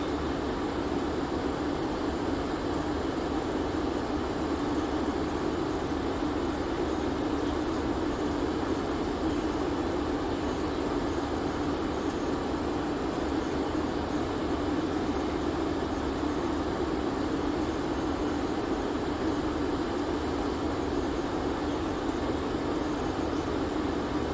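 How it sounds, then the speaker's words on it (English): Inside a jet aircraft cabin in flight, a steady, even roar of wind and a quiet engine hum continues without a break, with no talk. "Now the jet's so quiet, all I hear a little bit of wind."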